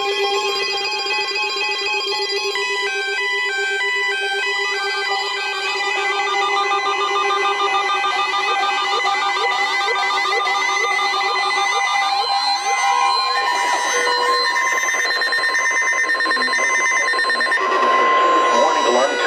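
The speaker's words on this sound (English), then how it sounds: "Warning alarm tone." NOAA weather radio warning alarm tone, a loud continuous electronic alert that sounds on its own and sweeps and shifts in pitch for almost twenty seconds.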